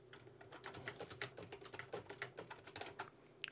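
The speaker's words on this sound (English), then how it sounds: "if I press Ctrl, Shift and S" Keys on a computer keyboard in Microsoft Word 2016 are pressed in quick, irregular clicks over a few seconds, close and quiet, with a faint hum beneath.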